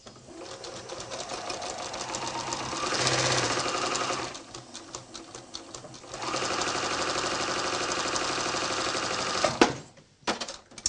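Sewing machine stitching ribbon binding along fabric edges for a pocket tissue holder: steady close mechanical whirring and needle chatter in two long runs separated by a brief pause, ending with a few clicks.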